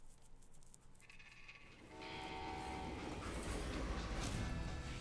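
Train in the video game Call of Juarez: Gunslinger, a low rumble that swells into a loud, steady rolling clatter with a faint horn-like tone, heard alone without talk.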